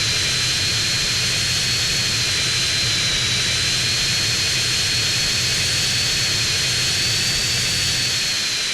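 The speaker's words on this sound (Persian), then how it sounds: "چون داشتم با جت پرواز میکردم" Jet engine of an aircraft flying in GTA San Andreas, a loud continuous roar with a steady high whine held throughout, unbroken and close, with no talk over it.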